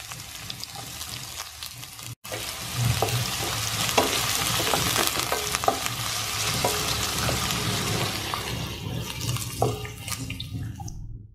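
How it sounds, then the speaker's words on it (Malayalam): Chopped onion sizzles and fries in hot oil in a pan for a Kerala prawn roast, making a loud, steady crackling hiss with occasional stirring scrapes that fades at the end. "അതിലേക്ക് നമുക്ക് അരിഞ്ഞു വെച്ചേക്കുന്ന സവാള ഇട്ടുവിടാം"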